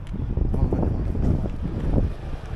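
Steady, blustery wind buffets the microphone with a low, rumbling roar throughout, with no voices heard.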